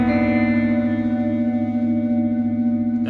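A single guitar chord rings out and sustains with open strings shimmering, colored by an effect with echo and reverb. It fades slowly, and no voices are heard.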